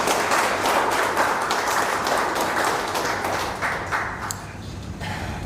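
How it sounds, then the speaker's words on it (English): Applause for the cultural committee at an association's annual general meeting, a broad crowd clapping that starts full and gradually thins and tapers off toward the end. "please give a round of applause for the whole cultural committee"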